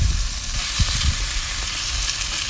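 Pork loin sizzles loudly in a hot pan as it grills, a steady crackling fry with occasional soft low bumps, close and continuous with no voices.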